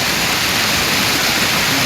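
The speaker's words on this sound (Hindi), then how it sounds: "छोटी सी नदी है, ये नदी मैंने क्रॉस करनी है।" Small Himalayan mountain river, spring-fed water running among cedar forest, rushing in a steady loud broadband roar close by with no talking.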